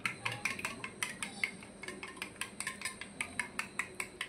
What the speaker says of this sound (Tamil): இப்போ ஒரு முட்டையை இந்த பிளேட்டில் இந்த மாதிரி நல்லா கலக்கி எடுத்துக்கலாம்.